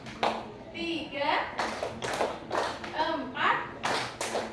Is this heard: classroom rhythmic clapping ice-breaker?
yes